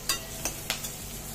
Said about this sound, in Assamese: সেইবাবে মই 2 টুকুৰামান ইয়াতে বৰফ দি ল'ম।